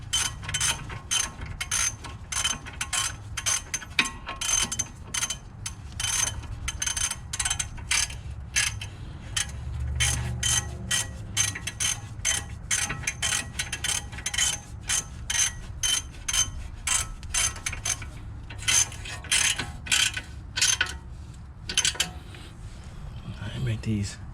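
A ratchet tightening bolts on the front brakes of an Audi C7, rapid clicking bursts repeated in short runs over about twenty seconds, close and moderately loud with a low background rumble.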